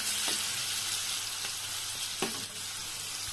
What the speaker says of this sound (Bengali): এটাকে লাল লাল করে একটু ভেজে নিই।